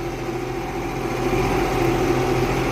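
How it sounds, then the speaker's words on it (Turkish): A tractor pulling a rotavator uphill through hard, long-unploughed ground, its engine droning steadily and heavily under load, close and continuous throughout. "Bayır yukarı zaten bir takviye bile şey yapıyor traktör, zorlanıyor."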